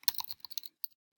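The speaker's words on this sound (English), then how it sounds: "I'm a terrible typer, as you can tell." Quick bursts of keys clacking on a computer keyboard, a short uneven run of taps followed by a pause and one or two final strokes, close and crisp with no speech.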